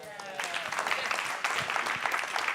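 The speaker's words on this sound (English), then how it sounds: "Give her a round of applause." Applause from a panel-discussion audience on democracy at a university institute, a steady wash of many hands clapping at moderate distance for a couple of seconds with no speech over it.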